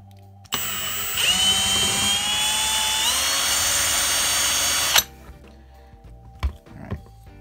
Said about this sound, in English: So let's drill this one and test fit, see how the gummy works on this one.